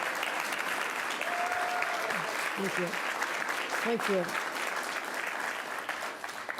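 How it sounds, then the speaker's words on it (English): Steady, dense applause from an audience honoring the head of the DEC at an environmental justice infrastructure announcement, filling the whole stretch with a voice briefly speaking over it. "Let's give him a round of applause."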